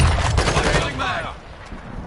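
Magazine of gunfire in Modern Warfare 2 combat, a dense, loud burst of shots in the first second that thins into a fading rattle and lingering echo, with battlefield chatter mixed in.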